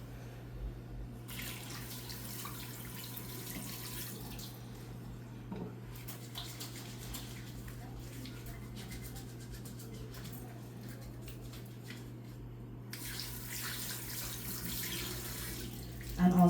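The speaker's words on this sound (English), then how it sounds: "we have to wash our hands and mask up" Steady running water from a sink tap in a phlebotomy room as hands are washed, a continuous even rush with a low hum beneath it, moderately close and without speech.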